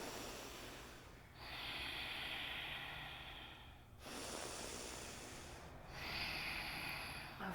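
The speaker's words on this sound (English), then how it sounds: "2 more huge breaths" Deep, huge breaths during a power yoga class, three long slow hissing breaths with inhales and exhales through the nose, close and steady with no talking.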